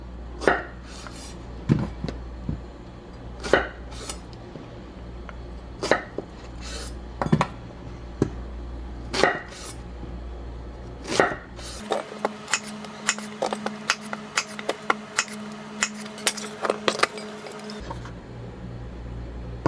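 A knife cuts zucchini into quarters on a cutting board, sharp regular chops and taps repeated about a dozen times, close and clear, with a faint steady hum underneath and no talking.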